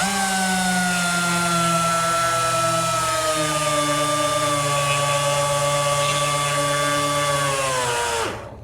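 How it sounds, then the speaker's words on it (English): A Dremel rotary tool cuts into a car battery terminal with a steady, high, buzzing whine that holds for several seconds, dips slightly in pitch under load, then winds down abruptly at the end. Close and loud, no voices. "I'm going to use my Dremel, and I'm going to basically pick an area where I want to cut it out from."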